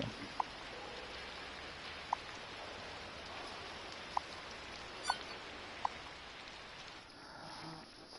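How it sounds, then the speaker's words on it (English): Steady rain hisses across the scene in the Truck Driver game on PS4, a constant wash of drops with a few faint clicks spaced through it and no voices. "that rain ain't helping"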